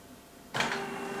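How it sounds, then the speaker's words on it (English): A Canon G550/650/620 inkjet printer starts initializing with a sudden mechanical whir and clatter of moving parts, followed by a steady humming drone that carries on close and moderately loud, with no talking. "They do whatever printers do when they're initializing."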